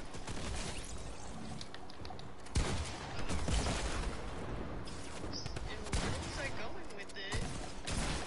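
Sniper rifle shots ring out in a video game, a few sharp loud reports spaced apart over busy game noise and other gunfire, with voices present.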